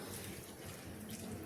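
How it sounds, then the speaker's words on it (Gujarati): Flattened rice (poha) rinsed in water in a vessel, giving soft, continuous sloshing and swishing at low volume throughout. "2 થી 3 પાણીથી આપણે પૌવાને ધોઈ લઈશું"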